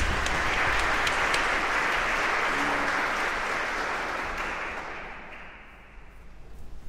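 Concert audience applauding in a hall, a dense, loud, sustained wash of clapping that gradually fades toward the end before a few claps pick up again.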